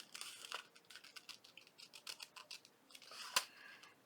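Scissors snipping through paper to cut out a picture of a woman, a quick run of close, crisp rasping cuts in an uneven rhythm with one sharper snip near the end.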